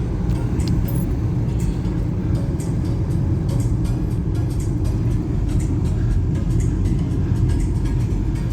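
A car climbs a hill on a drive through Boothtown, Halifax, its engine a loud, steady low rumble mixed with road and wind noise filling the whole stretch.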